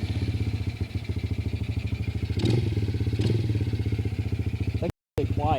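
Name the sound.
Edge 90cc ATV engine running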